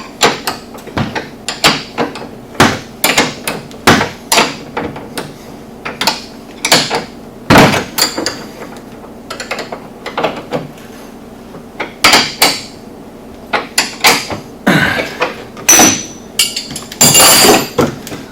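A wrench tightens harness mount bolts, with sharp metallic clanks and knocks in irregular bursts, some loud and close, others lighter, spread throughout with short pauses between.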